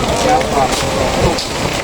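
Steady rain falls outside a school classroom or sports hall in Indonesia, a continuous broadband hiss and patter that fills the whole moment at an even, fairly loud level with no clear talk over it.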